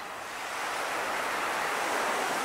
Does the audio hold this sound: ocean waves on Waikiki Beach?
yes